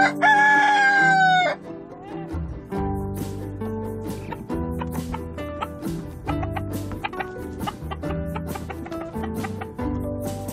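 A rooster crows loudly and clearly at the start, one long call near the microphone, followed by a steady background of music.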